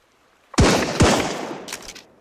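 Two loud, close shotgun blasts in the video game Sunkenland, about half a second apart, each with a sharp crack and a reverberant tail, followed by a fainter metallic clatter.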